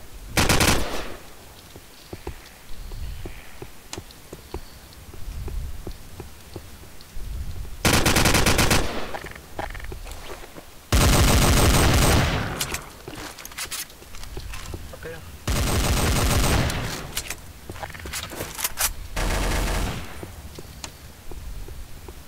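AK rifle fire crackles in loud automatic bursts during a Garry's Mod zombie roleplay game, several sharp volleys spread across the stretch between quieter gaps, with players talking in between.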